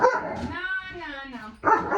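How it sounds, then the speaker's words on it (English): A dog barks and whimpers up close in short yelps, with a whining, high-pitched tone running through the clip. "Why are you barking?"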